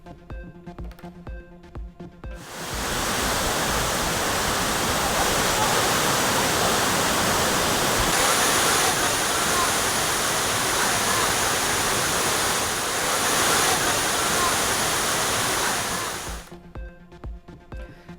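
Aliyar waterfall in Coimbatore district pours in a loud, steady broadband roar that starts abruptly and holds for about fourteen seconds before cutting off, with no voices over it.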